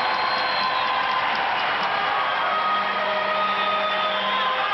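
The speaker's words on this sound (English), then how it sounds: "the crowd, of course, reacts, booing those who have disrupted the flow of the game" A sustained roar from an ice hockey arena crowd at a 1984 Oilers–Flames playoff game seven, steady and dense with a booing tone, a broadcast commentator's voice faintly underneath.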